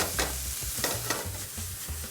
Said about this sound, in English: You can hear that rice popping a little bit.